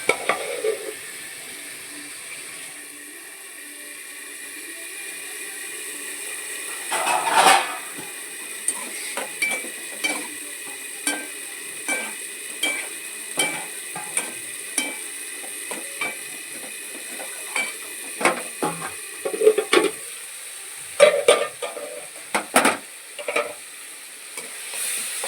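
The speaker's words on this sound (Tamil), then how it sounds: "பாருங்கள் நல்லா தக்காளி வதங்குது." Tomatoes with rock salt sauté in a pan, giving a soft steady sizzle broken by a series of sharp scraping stirs and utensil clinks against the pan, close and fairly quiet.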